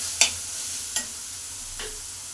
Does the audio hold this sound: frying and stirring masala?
yes